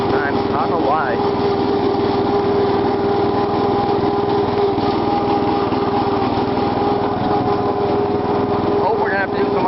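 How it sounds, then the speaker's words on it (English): A loud, steady whine from an old lawn tractor's hydrostatic transmission rides over the constant engine drone, close and unbroken throughout, with a couple of brief pitch wobbles. "you need ear muffs for the transmission. These old hydros are so loud sometimes"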